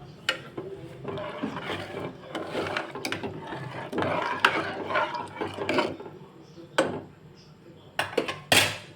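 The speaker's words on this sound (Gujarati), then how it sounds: "હવે ફ્રેન્ડ્સ હું કોથમરી એડ કરી દઈશ હવે આપણે બધું મિક્સ કરી દઈશું" Masala khichdi ingredients with fresh coriander being stirred in a pot, with a spoon clanking and scraping against metal in repeated close, uneven strokes.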